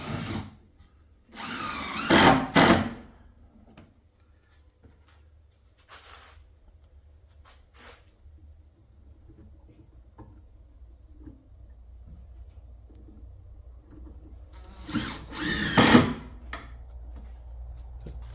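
A power drill drives screws into the wooden legs of a homemade horizontal beehive, with two loud bursts near the start and another near the end separated by quieter workshop background.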